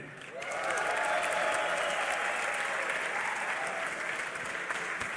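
A large audience at the Dreamhack Winter 2012 esports final breaks into sustained applause and cheering, swelling quickly after a brief quieter moment and staying loud and dense to the end.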